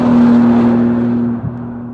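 A 2013 Bentley GT Speed Convertible drives fast on an open desert road, a loud, close engine drone with a steady pitched whine that fades slightly as it pulls away.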